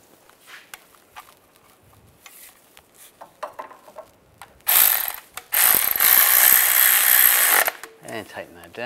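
Ratchet tightening a nut on a starter bracket under a 1998-2010 Volkswagen Beetle, quiet clicks at first, then a loud, rapid sustained ratcheting burst lasting about three seconds before it stops.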